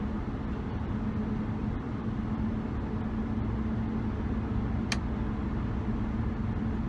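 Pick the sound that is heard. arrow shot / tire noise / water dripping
tire noise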